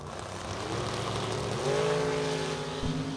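Dragster race cars at a bracket drag racing event, a continuous loud engine roar that rises in pitch as the cars accelerate down the strip, heard alone without talk.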